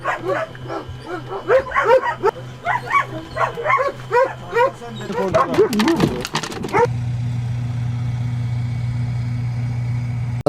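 Several dogs bark and yip in quick, overlapping bursts on a cargo plane carrying rescued cats and dogs from Afghanistan. A brief flurry of sharper sounds follows, then a steady low hum takes over.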